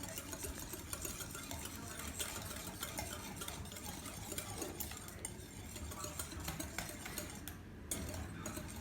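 Sugar and egg yolks being mixed together in a bowl, a continuous scraping and clinking of a utensil against the bowl, fairly faint and close, with no talking.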